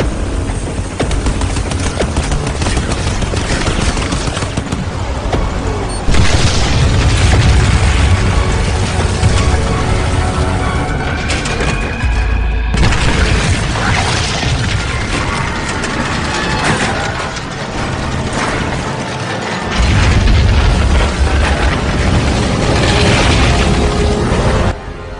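Heavy explosions from the video game Crysis Remastered as a tower is bombed and a dam blown, a dense, loud rumbling barrage of booms and blasts with rushing debris, sustained throughout with a brief dip midway.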